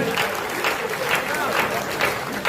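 Audience applause at a Hindi comedy poetry gathering, a steady broadband wash of clapping with a crowd murmur, continuous and fairly loud for a few seconds.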